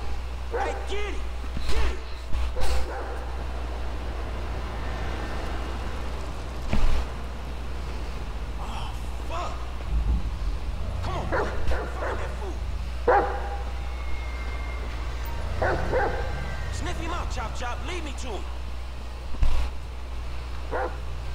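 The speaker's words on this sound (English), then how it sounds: "This right here is one sick, nasty ass motherfucking dog." A dog barks in sporadic bursts in GTA 5, scattered over a steady low rumble, with people talking at times throughout.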